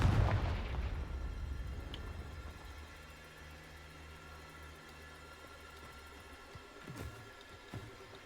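A Confringo spell explodes in Hogwarts Legacy with a loud boom in the opening second, then a low rumbling decay, followed by a few small pops and impacts later on.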